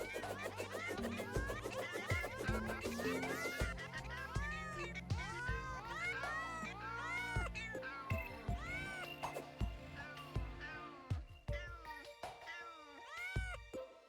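Cats meow repeatedly in a dense, overlapping chorus as bouncing kitty projectiles fly around in the Terraria video game, loud and continuous throughout.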